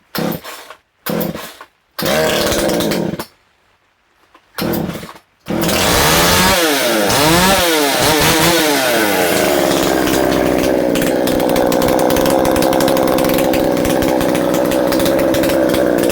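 A Stihl MS250 chainsaw, modified and louder than stock, pulled a few times then catching and revving up before settling into a loud, continuous close-up roar; the early pulls come in short separate bursts.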